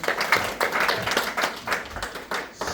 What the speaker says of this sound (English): everybody go ahead and give him another big round of applause